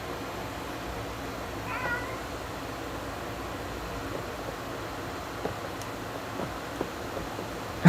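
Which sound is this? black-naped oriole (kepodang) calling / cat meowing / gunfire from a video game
cat meowing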